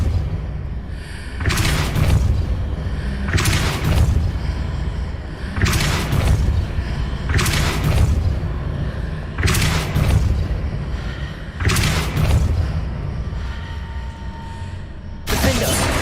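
Depulso spell casts in the video game Hogwarts Legacy, about seven loud, broad whooshing bursts recurring roughly every two seconds over a steady background of game ambience.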